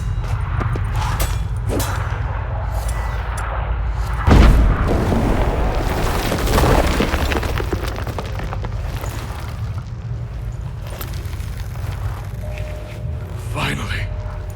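Stalagmites being smashed in The Witcher 3: Heart of Stone, a heavy booming crack midway over a dense rumbling cave ambience, with voices talking around it.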